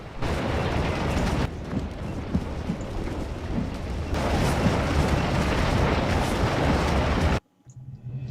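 Canister artillery fire on a Scourge of War battlefield: a loud, continuous roar of overlapping blasts and rumbling booms that cuts off abruptly near the end.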